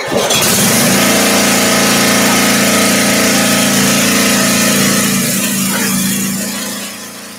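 Forge running loud and steady while heating 1-inch round stainless steel bar, a continuous roaring blower hum that fades slightly toward the end, with no talk.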